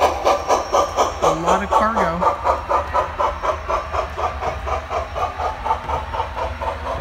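Rhythmic chuffing of a small Union Pacific model steam train hauling cargo cars nearby, with regular puffs and a brief whistle-like tone early on.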